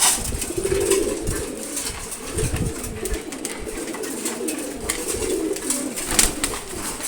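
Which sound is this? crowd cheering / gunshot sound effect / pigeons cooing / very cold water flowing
pigeons cooing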